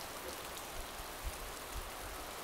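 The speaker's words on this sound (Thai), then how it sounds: "ฝนตกฝนตก" Steady rain pours in the video game DayZ Standalone as a dense, even hiss that fills the whole moment, with no voices over it.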